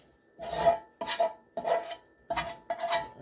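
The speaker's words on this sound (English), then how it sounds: "we're going to add our onions, our celery, and our garlic to our mixture" Onions, celery and garlic sizzle and clatter in a pan, stirred in five separate bursts with short pauses between, close by and no talking.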